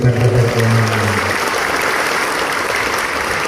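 Applause rises from a crowd for the Tamanan market traders' association at a market inauguration in Bondowoso, a steady wash of clapping, with a voice speaking briefly over it at the start.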